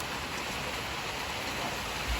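Rain falls as a steady, even wash of hiss with no breaks, fairly quiet and heard without voices.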